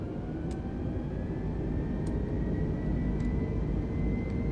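Airbus A320neo jet engines in Microsoft Flight Simulator 2020 spool up for takeoff, a steady broadband roar with a rising whine held loud and continuous throughout, no voices.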